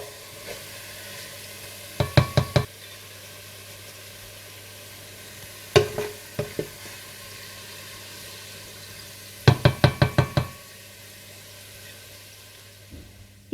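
Onions fry in a pan with a soft, steady sizzle, heard close up. Now and then a utensil stirs or scrapes against the pan in quick clusters of clinks, and no one speaks.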